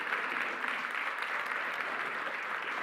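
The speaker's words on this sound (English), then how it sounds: "let's give our students a big round of applause" Students in an El Paso High feeder-pattern school audience get a steady, dense round of applause from a packed room, many hands clapping continuously at an even level throughout, with no voices rising above it.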